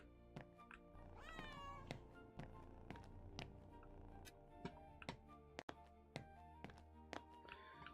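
A cat called Mr. Kitty in a returns outlet store simulator game meows once in a short rising cry, over steady ticking and soft tapping game sounds at low level.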